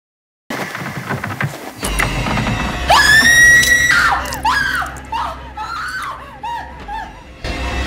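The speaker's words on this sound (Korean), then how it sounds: "고래고래 소리를 지르면서 집 밖을 뛰쳐나갔어요" A woman screams loudly and shrilly in a dramatized ghost story, the long piercing cry breaking into shorter panicked shrieks over a low rumbling, eerie backdrop.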